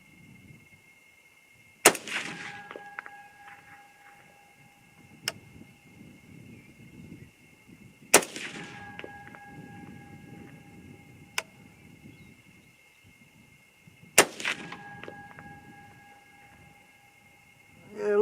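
Three sharp 6.5 rifle shots fired with 90-grain bullets at targets, spaced about six seconds apart, each a loud crack trailed by a ringing tone, with quiet outdoor background between.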